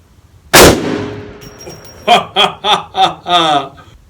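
A single loud, sharp boom from a Desert Eagle .50 AE pistol, fired outdoors close by, followed by a ringing tail and then a burst of people laughing.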